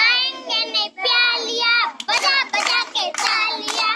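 Hand clapping in time with a children's sung nursery rhyme, the claps landing as sharp beats in the second half beneath steady, bright group singing.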